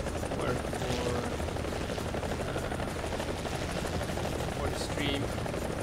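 An AH-1G attack helicopter in the video game War Thunder drones with a loud, constant rotor and engine roar that fills the whole stretch, with faint distant gunfire and a person talking underneath.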